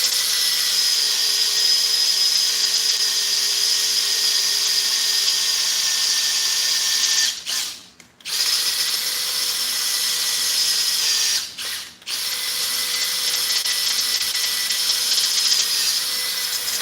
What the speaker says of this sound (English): Drilling through 3/8 with a 5/16 drill bit,